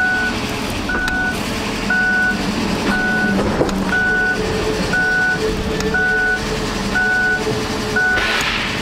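Kia Rio reverse-gear warning beeps, evenly spaced single tones about once a second, repeating steadily over a low engine hum at close range.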